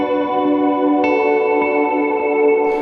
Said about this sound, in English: It's kind of just a normal tape delay.